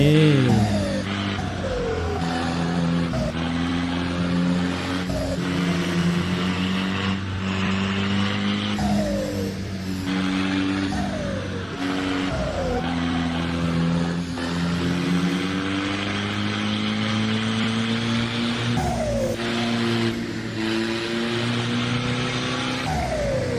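Modified Isuzu D-Max 2024 pickup racing uphill toward Doi Suthep, Chiang Mai, in Assetto Corsa: a loud engine repeatedly revving up, with sharp pitch drops at each gear shift, continuous throughout and without voices.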